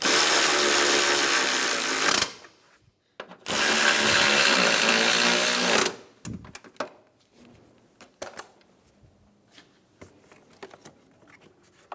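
Loud, continuous mechanical whirring of a power ratchet snugging bolts on a 2010-2015 Lexus RX350 air snorkel runs in two long bursts, followed by scattered clicks and clanks of tools handled nearby.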